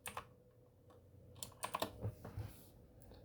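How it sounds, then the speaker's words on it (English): Quiet, close computer keyboard typing: a few scattered keystrokes followed by a quick cluster of taps and clicks, with no voices. "I'm gonna type in 4 GB, means 4 gigabytes,"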